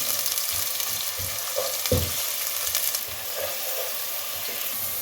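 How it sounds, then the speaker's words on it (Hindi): Sliced medium onion frying in hot oil for masala matar pulao, a close, steady sizzle with soft clicks and scrapes of stirring, no voices present. "प्याज को इसमें फ्राई कर लें"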